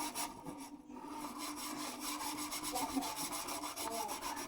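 Hand scrubbing of an object, a steady rasping rub with repeated strokes at a quick, even rhythm, close and moderately loud, with no talk.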